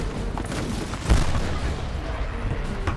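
British guns firing on the beach below Queenston Heights in a War of 1812 battle scene, a single heavy boom rolling out over a rumbling battle din.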